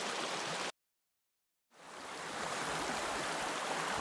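A mountain creek in the Wrangell Mountains near McCarthy, Alaska rushes with steady broadband water noise, cut off by a second of silence, then resuming close and loud.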